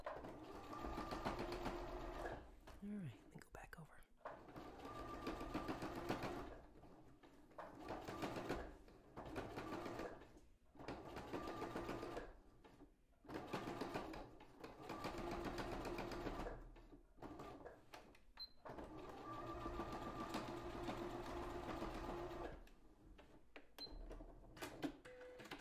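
A sewing machine stitches the arms of a handmade stuffed dog toy, its needle chattering in long steady runs broken by brief pauses, moderately loud and close with no talking.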